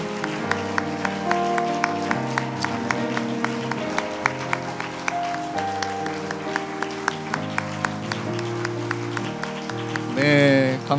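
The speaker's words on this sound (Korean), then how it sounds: "크게 박수로 우리 축복해 주십시오." A church congregation claps in time through the music at a Sunday worship service, the beats crisp and regular, before a short swell of louder applause near the end.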